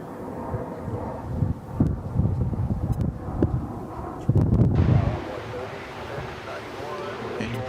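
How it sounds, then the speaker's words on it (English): Steady wind noise buffets the microphone at an airport plane-spotting spot, with louder gusts rumbling through now and then, while voices talk faintly underneath. "it's just kind of windy."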